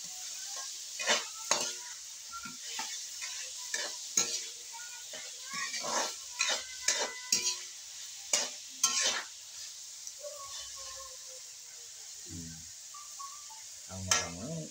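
A spoon stirs sliced patola (sponge gourd) and misua noodles in a sizzling cooking pan, with scattered scraping clinks against the metal over a soft, steady frying hiss.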